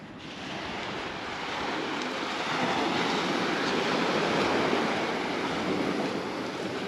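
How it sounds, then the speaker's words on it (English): Waves wash onto a beach along the Atlantic coast near La Rochelle at sunset, a steady, broad roar of surf with slow swells in loudness and some wind noise on the microphone, with no voices. "Don't you just love the sound of waves?"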